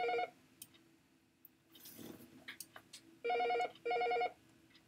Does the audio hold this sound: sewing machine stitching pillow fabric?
no